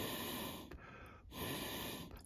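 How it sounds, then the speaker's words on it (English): Breath blown through a vacuum hose on a Mercedes M112/M113 engine to check for restriction, giving two long breathy rushes separated by a short pause, close and steady. "I basically put it over the opening and use my breath to blow through"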